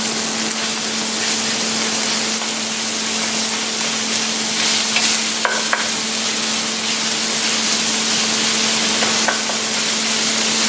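Ground lamb frying in a pan with salt and pepper, with a steady loud sizzle throughout and a couple of faint scraping stirs as the meat is broken up, under a constant low hum.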